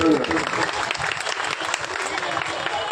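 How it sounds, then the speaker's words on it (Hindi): Loud, dense clapping from a crowd of primary school teachers at a union rally for their pension demands, sustained across the whole stretch, with voices mixed in beneath the applause. "जोरदार ताली बजाइए अपने लिए"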